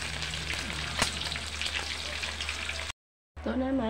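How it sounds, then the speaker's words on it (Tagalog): Galunggong fish fries in hot oil with a steady close sizzle and a sharp pop, then a short gap of silence before a brief voice is heard. "Dito naman tayo ipiprito natin yung isda."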